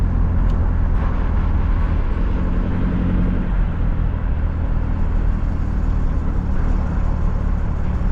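A car engine runs steadily while driving on a rural road, a loud continuous rumble with road noise and no voices.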